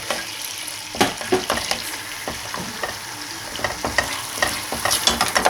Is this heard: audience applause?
no